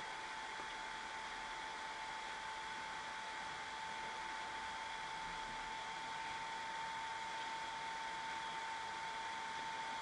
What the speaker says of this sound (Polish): ten wentylatorek też nie chodzi idealnie równo i to oczywiście sonometr bez problemu wychwyci